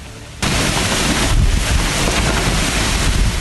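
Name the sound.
stormy wind and rain in Mumbai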